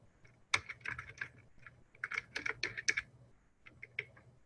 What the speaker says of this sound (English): you have to type the words delete project.